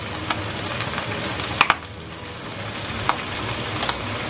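Garlic sautéing with pork in a pan, a steady close sizzle with a few sharp pops and crackles, no talking.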